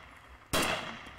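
A single sharp rifle shot cracks out in the military video game Arma 2, loud and sudden, then fades into a brief decaying tail over quiet background.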